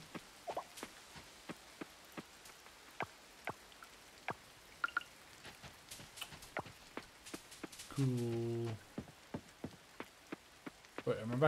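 Game rain falls in Coral Island as scattered sharp droplet ticks on surfaces, irregular and fairly close, with a brief tonal game sound partway through.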